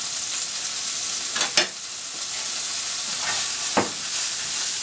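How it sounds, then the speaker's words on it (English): Onions and garlic fry in a pan just after pork ribs were seared for a braise, giving a steady close sizzle with two brief louder bursts as the pan is stirred. "So now we're going to add the onions in with the garlic."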